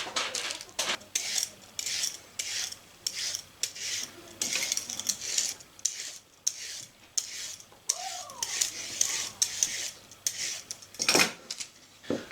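Black carrots being peeled by hand in a kitchen, a steady run of short scraping strokes repeating close by, with a few small clinks of utensils and no talking.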